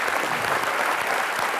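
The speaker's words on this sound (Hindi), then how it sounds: "जोरदार तालियां प्रियंका की मम्मी जी के लिए।" A studio audience at a comedy talk show applauds loudly, a dense and even burst of clapping from a large crowd that fills the whole moment.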